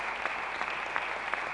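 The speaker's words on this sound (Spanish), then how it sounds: "pido un aplauso enorme para nuestras intendentas hoy, en el Día de la Mujer" Applause from an audience at a Women's Day event honoring women mayors, a short burst of steady clapping heard at moderate distance, unbroken and without voices.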